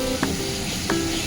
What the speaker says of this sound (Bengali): এই যে লাউ, এখানে পেঁয়াজ বাটা, আদা রসুন বাটা, কাঁচা লঙ্কা বাটা সব দিয়ে মশলাটা ভালো করে কষিয়ে নিচ্ছি।